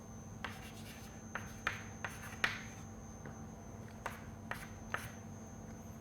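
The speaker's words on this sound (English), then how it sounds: "let me first write it down" Chalk or marker writing on a board during a finite element methods lecture, quiet tapping strokes and short scratches at irregular intervals over a steady room hum, with no talking.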